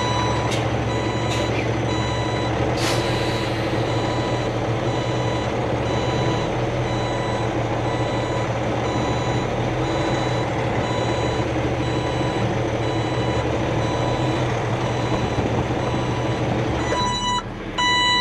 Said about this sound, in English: We gotta use trailer lift now.